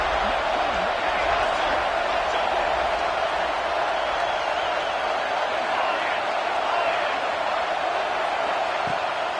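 A football stadium crowd roaring on a big third down, a dense, unbroken wall of cheering that holds at an even, loud level throughout.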